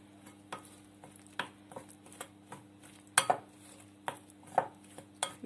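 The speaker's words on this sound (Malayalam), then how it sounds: "ഇളക്കി യോജിപ്പിക്കാം." A spoon scrapes and knocks against a bowl while pizza dough of salt, yeast and olive oil is stirred together, giving a series of irregular close clinks over a low steady hum.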